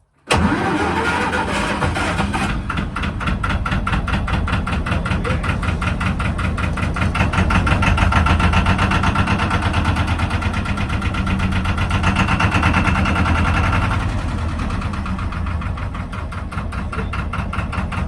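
A narrowboat engine cranks and starts immediately, then runs with a steady rhythmic chugging throughout, close and loud, no voices.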